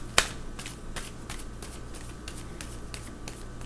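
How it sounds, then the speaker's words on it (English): Tarot cards are shuffled by hand at close range. One sharp snapping slap opens the clip, followed by a steady run of soft, papery riffling bursts over a quiet room. "so from that shuffle, nothing coming out"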